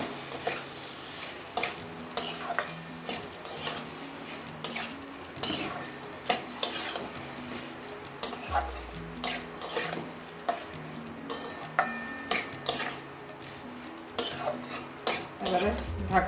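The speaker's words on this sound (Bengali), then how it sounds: "সিদ্ধ করে রাখা কচুর লুটিটা দিয়ে দেবো ভালো করে মশলার সঙ্গে মিশিয়ে দেবো" Boiled taro stolons are stirred into spices in a pan, with repeated close scrapes and knocks of a spoon on metal, uneven in rhythm, over a light sizzle.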